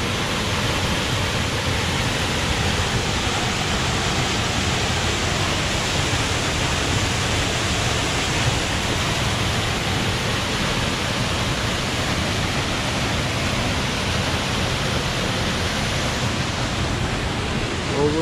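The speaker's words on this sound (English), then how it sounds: "Three waterfalls in one." A continuous roar of rushing, crashing water from Sol Duc Falls, a three-part waterfall in Olympic National Park, steady and loud throughout with no pauses.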